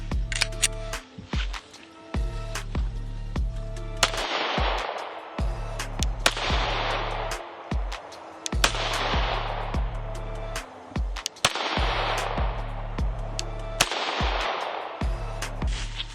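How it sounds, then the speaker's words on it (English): Glock 19X pistol fired downrange at a target, a series of sharp loud reports spaced roughly a second or two apart over a steady loud background hum, with no talking. "So we'll throw a couple rounds downrange with this Glock 19x."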